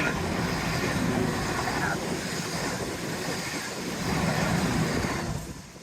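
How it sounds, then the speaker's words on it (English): A train passing along the waterfront at Teignmouth, a broad steady rumble that swells and eases over a few seconds, fairly faint and distant. "Yay! Train!"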